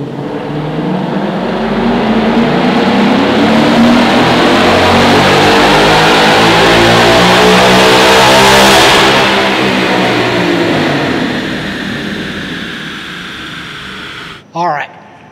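A tuned car running on E85 fuel revs hard on a dyno, a loud sustained engine roar climbing steadily in pitch for about eight seconds before easing off, with a short sharp burst near the end.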